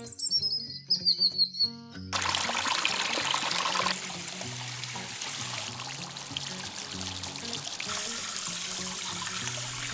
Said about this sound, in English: this huge wall of trickling water, which is beautiful